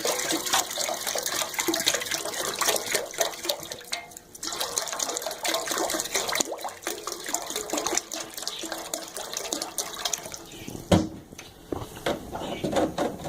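Water runs and splashes steadily into a metal pot, a continuous broadband pour with small clinks and a sharp knock near the end.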